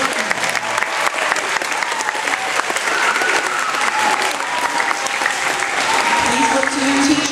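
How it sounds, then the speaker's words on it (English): An audience at a school concert bursts into sustained applause after the program, loud dense clapping throughout with scattered voices and cheers mixed into the crowd noise. "Let's give her some applause for a great program."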